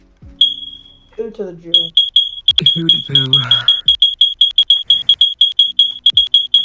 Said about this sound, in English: I have a smoke detector that needs a battery replacement